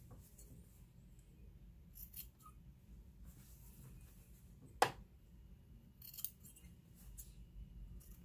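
Scissors cutting the corners off a quilted fabric bookmark, mostly quiet with one crisp, close snip and a fainter second cut shortly after.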